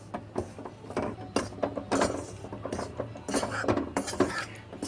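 Wheat flour being dry-roasted in a pan over medium heat, stirred all around with a utensil, giving repeated scraping and clinking strokes against the metal at a steady, close rhythm with no talk.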